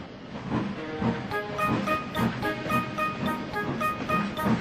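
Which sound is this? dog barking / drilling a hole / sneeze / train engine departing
train engine departing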